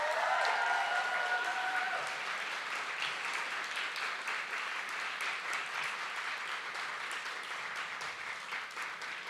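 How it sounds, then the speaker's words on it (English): A large awards-ceremony audience gives sponsors a sustained round of applause, dense clapping that stays strong throughout, with a brief tonal sound at the start. "Now you can give them a massive round of applause."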